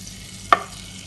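Two tablespoons of butter melt in a pressure cooker with a soft, steady sizzle and one brief clink of a utensil, with no talking.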